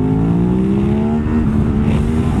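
A motorcycle engine revving hard under throttle alone for a torque wheelie, loud and close, with a steady rising whine and heavy rumble throughout.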